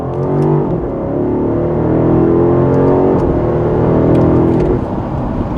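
A close, loud engine of a 2024 BMW X6 M60i SUV driven with paddle shifters, rising steadily in pitch as it accelerates, with a brief shift and renewed climb, continuous throughout without talking.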